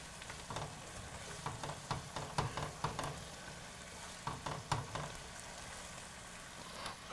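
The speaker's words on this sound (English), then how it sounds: "sauteed onions." Onions sauteing in a pan, a soft steady sizzle broken by scraping stirs and light clinks of a utensil, close but quiet, with no talking.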